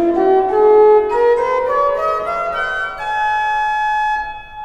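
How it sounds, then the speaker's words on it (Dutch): Pipe organ plays a rising scale with early Sweelinck-style fingering, sustained legato tones stepping upward steadily for several seconds in a reverberant space, with no speech. "Ik laat een toonladder zien en horen."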